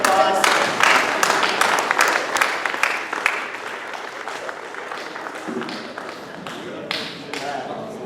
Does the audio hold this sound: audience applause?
yes